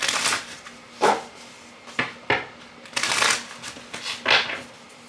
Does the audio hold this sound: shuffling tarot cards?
yes